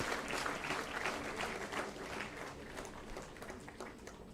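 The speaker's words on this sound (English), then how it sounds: "Please give a loud applause" Sustained applause from a conference audience at a medical convocation, a dense continuous clatter of clapping heard at moderate distance, tapering slightly near the end.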